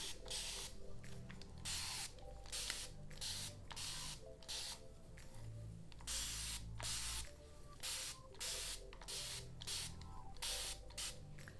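Repeated short hissing bursts from a spray bottle of water misted onto hair, close and fairly quiet, about a dozen squirts in an uneven rhythm with brief pauses between them.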